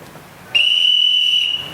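A single sharp, high whistle blast at a flag-raising ceremony starts suddenly and holds steady for about a second before trailing off, loud and clear against quiet background.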